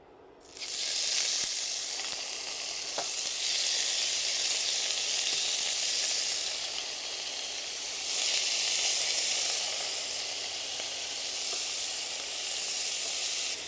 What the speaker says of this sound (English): a little bit of oil in the pan. And in go the prawns.